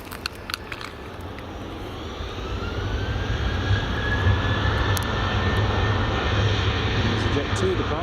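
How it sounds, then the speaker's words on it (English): A Jet2 jet airliner departs Glasgow Airport, its engine roar a broad, steady rumble that builds and holds from a distance, with a few faint clicks and knocks near the start. "There's a Jet2 departing."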